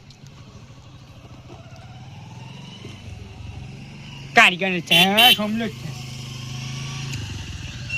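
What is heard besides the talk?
motorcycle passing by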